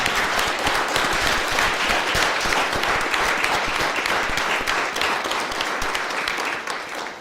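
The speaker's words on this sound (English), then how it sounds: "Could you all join me in a round of applause for our McDowell High School color guard under the direction of Major John." Applause from a citizenship ceremony audience for a high school color guard, a dense, steady wash of many hands clapping that stays loud for about seven seconds before easing slightly at the end.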